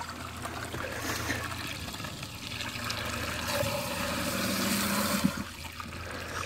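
Temporary sump pump draining rainwater from a driveway, a steady watery trickle and gurgle over a low continuous hum, swelling slightly before a brief knock near the end.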